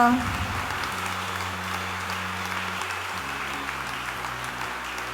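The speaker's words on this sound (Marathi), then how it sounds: "प्रभूला टाळ्या वाजून स्तुती करूया." A church congregation applauds in praise, a sustained wash of clapping that starts strongest and continues steadily, with musical tones sounding beneath it.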